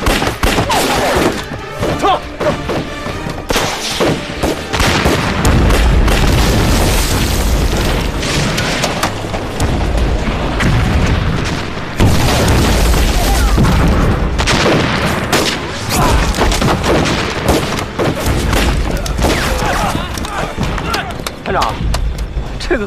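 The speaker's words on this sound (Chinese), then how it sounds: "引爆，是。领导，炸药包已点燃。" An explosive charge detonates in a war drama battle scene, a long stretch of loud booming blasts and crackling gunfire that stays dense and chaotic throughout, with shouted voices mixed in.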